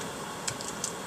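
Computer keyboard typing while entering setup commands for a Hobbywing LED strip configuration: a few soft, sparse key clicks over steady background hiss, faint and close.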